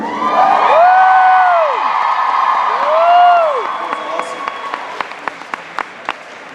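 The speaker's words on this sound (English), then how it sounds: "Round of applause for Emily, guys." A convention panel audience applauds and cheers, with whoops and loud hand-clapping that builds into sharp, rhythmic claps near the end.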